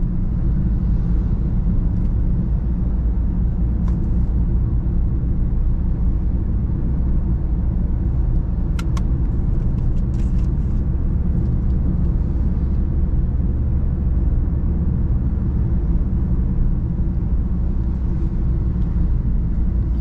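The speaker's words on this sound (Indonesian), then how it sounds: "Ini bawa Brio. Oke, pindah gigi tiga." A Honda Brio runs in third gear on a road, giving a steady low engine and road rumble that stays constant throughout, with no talking.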